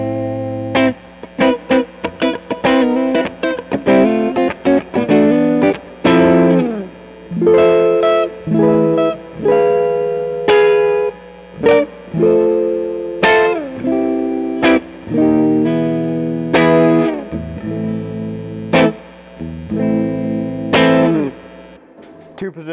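Sterling by Music Man Cutlass SSS electric guitar on its middle pickup, played as a series of plucked notes and chord stabs with effects and reverb, loud and close with short gaps between phrases and no talking.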